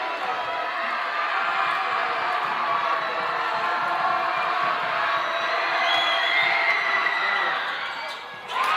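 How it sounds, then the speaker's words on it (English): A home crowd at a high school girls basketball game roars steadily during a tense double-overtime free throw, a sustained, fairly distant wash of cheering that dips briefly near the end. "The home crowd gets loud."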